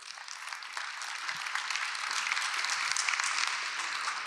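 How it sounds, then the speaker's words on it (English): Audience applause rises at a Blackfoot language conference, a steady crowd of many hands clapping at moderate distance that swells slightly and holds for several seconds. "Let's give Makiinima a round of applause."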